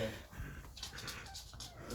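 A small dog whimpers and yips in short bursts close by, with soft breathy rustling and some background voices outdoors.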